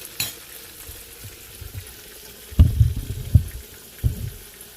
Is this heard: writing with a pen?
no